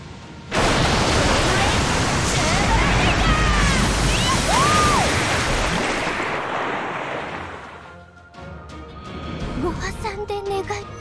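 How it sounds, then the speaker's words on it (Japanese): Big ocean waves crash in the Fate/Grand Order video game, a loud, roaring surge of surf with sweeping tonal swishes that fades away, then lighter game sounds follow. "さあ、大波だ。"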